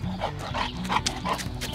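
A dog at an animal sanctuary makes short repeated whimpering, yipping vocal sounds close by over a steady low background hum.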